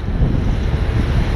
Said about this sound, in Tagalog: Bali na dyan ang hangin mga kabangka.